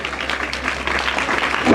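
Audience applause welcoming a guest at a school event at Janta Inter College, a brief burst of steady, fairly loud clapping from a crowd.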